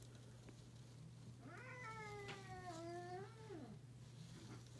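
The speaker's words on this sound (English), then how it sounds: "My cat is angry because he wants to go outside." An angry cat yowls to be let outside, one long drawn-out caterwauling meow that rises and falls over a steady background hum, with no talk.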